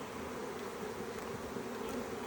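Honeybees buzz in a steady, dense drone throughout while a hive is being split and frames are rearranged, close and continuous with no talking.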